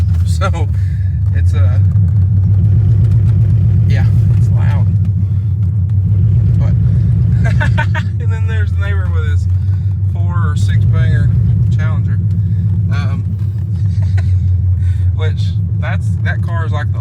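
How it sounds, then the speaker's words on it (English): Chrysler 300C with a 5.7 Hemi V8 and long tube headers pulls out of a driveway. A loud, deep exhaust rumble runs steadily close by throughout, with brief higher sounds over it. "that car is like the loudest car on this street, or was"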